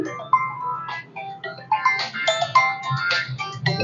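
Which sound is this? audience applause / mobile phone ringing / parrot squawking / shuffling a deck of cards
mobile phone ringing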